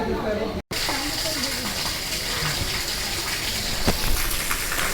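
The Falgu river rushes in a steady, broad gush that stays constant throughout, with a voice faintly heard over the flow.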